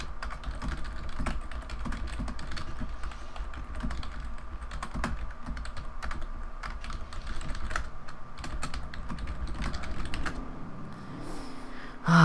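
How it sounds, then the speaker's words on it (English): Fast, continuous clicking of keys on a cheap, broken computer keyboard, steady and close throughout with no talk, ending in a brief louder thump. "you can probably hear me typing like crazy because the stupid keyboard"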